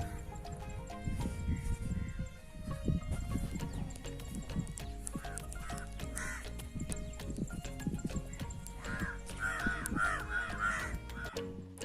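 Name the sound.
crows cawing while eating offered food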